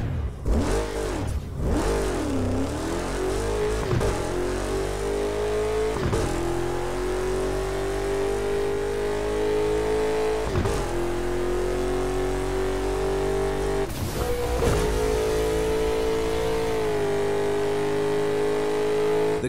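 Racing car engine in Burnout Paradise, loud and continuous, revving up through repeated gear changes with rising pitch sweeps and brief dips between shifts, no speech.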